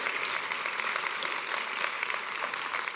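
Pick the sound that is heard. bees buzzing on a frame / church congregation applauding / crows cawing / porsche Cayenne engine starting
church congregation applauding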